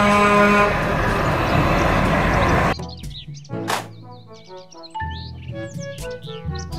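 A toy box truck sounds a steady, buzzy horn for nearly three seconds, then the horn stops and scattered squeaky electronic toy tones follow.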